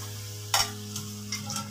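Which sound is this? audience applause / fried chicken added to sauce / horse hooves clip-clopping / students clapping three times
fried chicken added to sauce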